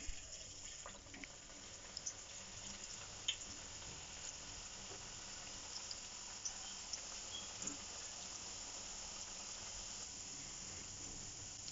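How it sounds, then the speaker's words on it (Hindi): Vegetable pakoras fry in hot oil in a frying pan, a faint steady hiss and crackle with tiny scattered pops running continuously without speech. "अब एक फ्राइंग पैन में ऑयल गर्म कर लें और इसमें पकौड़े डाल दें"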